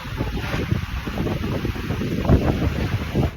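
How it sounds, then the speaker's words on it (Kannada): Strong wind blows during heavy rain, a continuous low roar with gusty buffeting against the microphone, rising in a few stronger bursts. "ಈ ಥರ ಸಿಕ್ಕಾಪಟ್ಟೆ ಗಾಳಿ ಇದೆ"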